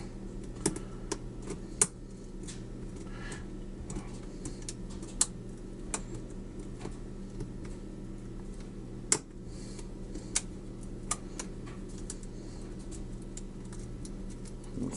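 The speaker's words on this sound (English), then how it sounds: "A little click out of pin 3." Lock pins clicking faintly while a lock is picked, small scattered ticks over a steady low hum, close but quiet with no talking.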